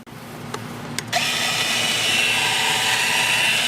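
Sun Joe 24-volt cordless cultivator tiller starts after a couple of clicks and keeps up a steady electric motor whine while digging into hard soil and mulch.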